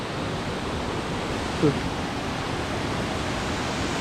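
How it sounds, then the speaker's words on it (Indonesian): Steady rushing water noise, a broad continuous roar of a waterfall in Sumba, Indonesia, with a brief voice-like sound partway through. "Nih air terjunnya dari sini nih tuh."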